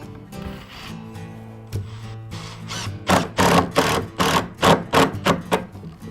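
A drill drives long screws into pre-drilled holes in a homemade wooden sled, a run of loud close bursts of motor whine in quick succession, with a quieter stretch of handling at the start.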